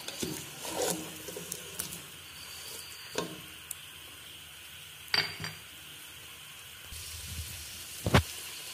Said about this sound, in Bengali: এবার নেড়ে ভালো করে আমি 5 ফোড়নটাকে মিশিয়ে দিচ্ছি, যেন প্রত্যেকটা আমের সাথে 5 ফোড়নটা খুব ভালো করে মিশে যায়।